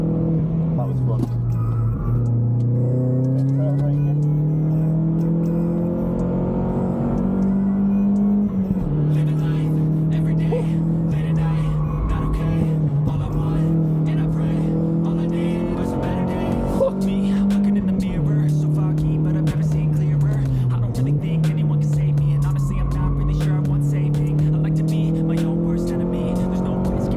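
Vauxhall Astra VXR track car on a cool-down lap at a track day, its engine humming at moderate revs, rising and easing through gears with occasional dips, steady and close for the whole stretch.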